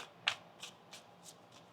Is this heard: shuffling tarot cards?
yes